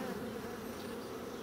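Honeybees buzz steadily at a hive, a dense, continuous drone of many insects close by with no pauses.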